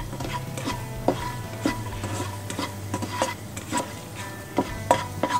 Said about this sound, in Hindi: अब इसमें काजू को भूनेंगे, हल्के गुलाबी होने तक भूनेंगे।